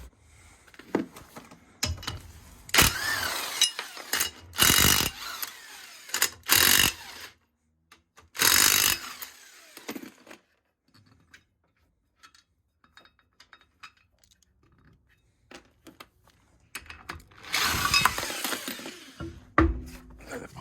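A ratchet wrench loosens the wheel nuts on a Renault Twingo in short rapid clicking bursts, close up, with quieter handling clinks and gaps between the bursts.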